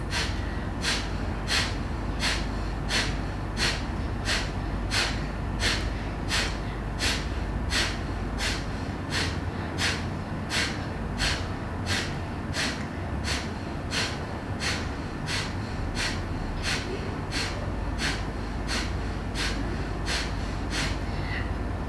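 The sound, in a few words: intense breathing during a breathing exercise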